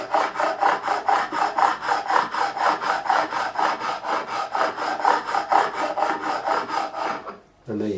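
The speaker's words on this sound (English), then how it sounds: "any scratches put in by this quite coarse file are not going to be there in the end" A coarse file worked over the fingerboard of a Gibson Les Paul Custom neck being repaired, rasping in fast, even back-and-forth strokes, close and loud, then stopping abruptly near the end.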